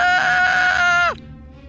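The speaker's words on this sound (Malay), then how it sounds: "Panjang nada jeritan." A long, high, sustained scream used as a sound effect in a ghost story, loud and steady for about a second before cutting off sharply into quiet room tone.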